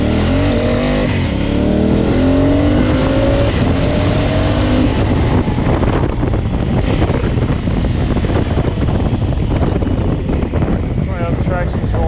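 A Honda CRF1000L Africa Twin motorcycle revs and spins its rear wheel while testing traction control on grass, a loud engine roar buffeted by heavy wind noise, with a rider talking over it.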